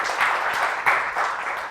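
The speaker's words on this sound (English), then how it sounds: "please, a round of applause for Vijay for years and years of work," Dense applause from a crowd, a steady wash of clapping that swells briefly, heard close for a short moment.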